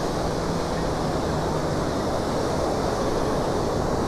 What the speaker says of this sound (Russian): и большая волна.